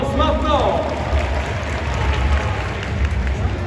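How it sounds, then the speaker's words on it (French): Stadium crowd at the Parc des Princes applauding during a golden kick contest at a PSG versus SCO Angers match, a dense, loud wash of clapping and crowd noise that lasts throughout. "je veux les applaudissements du Parc des Princes maintenant"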